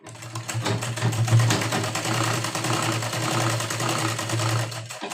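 A sewing machine stitches a double seam along a princess-cut line on a blouse, running as a steady, close, continuous mechanical hum with a rapid rhythmic needle beat and no pauses.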